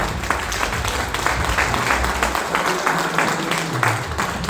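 Enthusiastic audience applause at a live stage event, dense continuous clapping from a large crowd filling the whole stretch at steady loudness.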